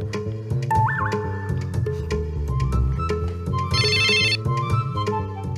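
Telephone ringtone playing loudly over music in a Hindi sitcom scene, with a bright warbling burst of ringing in the middle and no voices over it.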